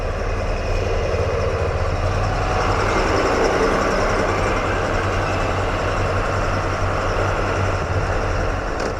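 Heavy truck engine rumbling steadily at close range while it dumps soil for road construction on a mountain road, a broad low drone with continuous machinery noise and no voices.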